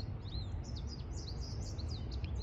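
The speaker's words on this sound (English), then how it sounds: "Look at that bird chirping." High, quick chirps from a small bird repeat over a steady low rumble of wind or outdoor noise, moderately close.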